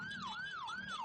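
An ambulance siren in Ciampea, Bogor, Indonesia wails loud and close in a smooth rising-and-falling sweep that repeats about three times with no break.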